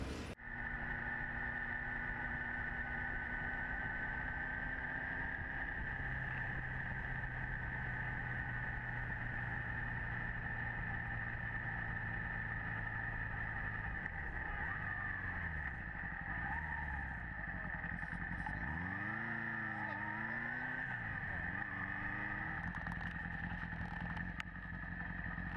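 A Kawasaki motorcycle is ridden, its engine holding a steady drone throughout, with pitch rising and falling as it changes speed near the end, accompanied by constant wind and road noise.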